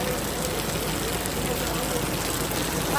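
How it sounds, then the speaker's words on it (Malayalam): Heavy rain pours down outdoors in Kerala, a steady, dense hiss of drops striking surfaces that stays constant and close throughout. "മീൻ വാങ്ങി വന്നപ്പോഴേക്കും പൊരിഞ്ഞ മഴ."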